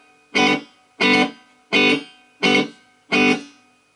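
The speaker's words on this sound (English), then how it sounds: "So here we go, now we're into the reverb." Guitar played through a Roland Micro Cube amp with reverb switched on: five evenly spaced strummed chords, each cut off with a short reverberant tail, loud and close with nothing else heard.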